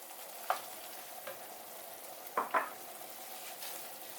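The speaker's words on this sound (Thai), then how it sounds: "ก็ไปพัดเนื้อหมูไห่สุกนะคะเนาะ" Pork stir-fries with curry paste in a pan over low heat, a soft steady sizzle broken by a few sharp spatula clicks and scrapes against the pan.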